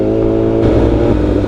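A big bike motorcycle engine runs loud and close, with a thick, steady throb and a slight lift in revs partway through. No one talks over it.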